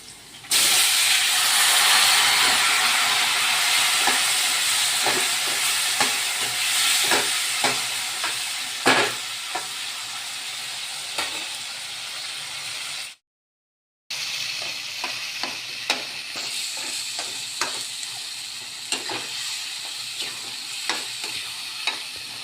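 Tomatoes go into a pan of frying garlic, setting off a loud steady sizzle and hiss with repeated stirring clicks and scrapes, close up, broken by a brief gap of silence.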